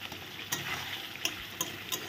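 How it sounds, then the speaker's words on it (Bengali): Papaya curry stirred in a pan, a soft continuous sizzle broken by a few sharp spoon taps against the metal. "এখন সব কিছু দিয়ে আবার ভালো করে নেড়ে চেড়ে দেবো।"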